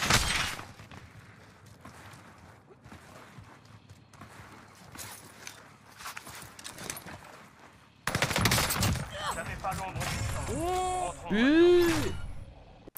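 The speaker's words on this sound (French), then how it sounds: "la dernière balle de K31, elle était quand même sacrément violente" K31 rifle shots crack in a Warzone match, sharp bursts scattered amid other gunfire and game effects, with voices talking around the shots.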